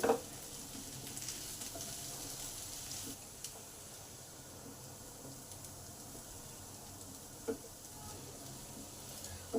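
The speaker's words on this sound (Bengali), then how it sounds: "এইগুলোকে দিয়ে তিন মিনিট ভালো করে আলুর সঙ্গে কষে নিলাম যাতে মশলাগুলো আলুর মধ্যে প্রবেশ করে" Potatoes frying with spices in a pan, a soft steady sizzle and hiss running throughout, fairly faint, with a few light clicks of a utensil and no voices.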